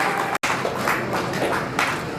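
An audience at a journalists' honours event for media workers in Jammu claps in a dense, steady burst of applause, briefly cut off near the start before continuing.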